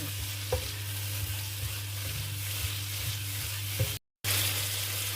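Canned mackerel stirred with salt and pepper in a pan, a steady sizzling hiss with soft scraping strokes throughout and a brief dropout near the end, no talking.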